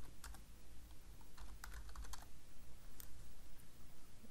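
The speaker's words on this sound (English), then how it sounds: "Here, you will type the link name to that image." Typing on a computer keyboard, a steady stream of quick key clicks at close range, with a few sharper taps standing out over a low room hum.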